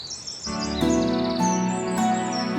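Birds call on a misty morning among cloud-covered hills near a double-decker root bridge in Meghalaya, with bright repeated chirps sounding clearly over a steady tonal background.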